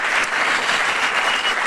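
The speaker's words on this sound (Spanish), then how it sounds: "¿Cuánto le damos un aplauso al Señor por eso?" A church congregation claps in steady, dense applause throughout the brief moment, with no voices rising above it.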